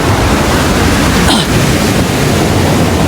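Ocean surf rolls onto the beach at Alas Purwo, Plengkung, a loud, continuous roar of breaking waves mixed with heavy wind buffeting the microphone, with no voices.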